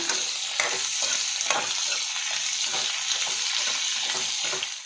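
Ingredients for a mutton keema curry frying in oil in a pan, a loud steady sizzle with rhythmic stirring scrapes about twice a second, close up and without talk.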